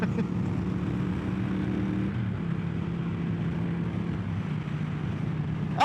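A Triumph Thruxton 1200 motorcycle engine drones steadily while riding, a low, throbbing hum that shifts pitch slightly as the bike changes speed, at a moderate, even distance beneath wind rush.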